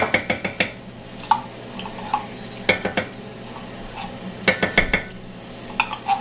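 Tomato paste cooks in a pan for a simple sauce with a low sizzle under repeated sharp taps and scrapes of a spoon against the pan, coming in irregular bursts.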